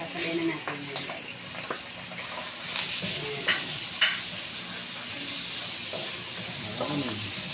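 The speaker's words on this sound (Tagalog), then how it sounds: "let's proceed to saute garlic and Onion" Garlic and onion sauté in a pan with a continuous soft sizzle, occasional spoon scrapes and clinks, and a person speaking over the cooking.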